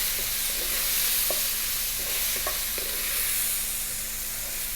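Paprika, oregano, chili, cumin and black pepper are stirred in a hot, sizzling pan, a steady frying hiss with a few light scraping and tapping strokes from a utensil, close up and without speech.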